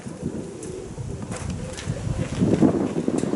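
Steady gusty wind buffeting a phone microphone, a low rumbling roar that swells louder toward the end, with no voices.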